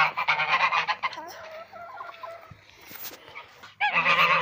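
Geese and ducks honking loudly in a fenced poultry yard with chickens nearby, with repeated nasal honks in bursts at the start and end and quieter calls in between.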